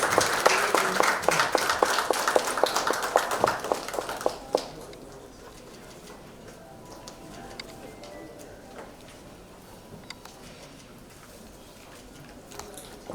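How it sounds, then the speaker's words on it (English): A round of applause from an audience at a real estate industry podium event, loud dense clapping for about four seconds that then thins to scattered claps and quiet room noise. "Can we please have a round of applause?"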